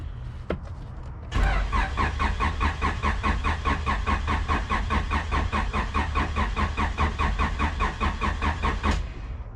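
A junkyard-rescued Honda CRX cranks on the starter without firing, a steady rapid rhythmic churn running for about eight seconds after a brief click, close and loud, with no voices over it.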